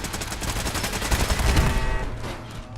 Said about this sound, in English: Porter, keep shooting, Porter!